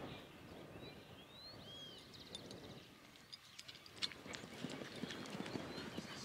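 Faint horse hooves clopping on soft ground in an irregular stepping rhythm as the horse backs up, with distant birds chirping in the background.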